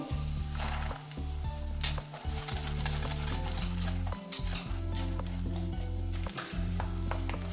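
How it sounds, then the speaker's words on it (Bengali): Peanuts with chana, urad and other lentils crackle and sizzle in hot oil in a pan, a dense steady frying hiss with sharp pops and a few scrapes of stirring, close up and with no talk. "বাদামটা থেকে চটপট আওয়াজ হচ্ছে।"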